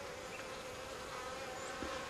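Honeybees drone at a beekeeper's apiary of about 500 hives, a dense steady buzzing that is faint and continuous, with no voices.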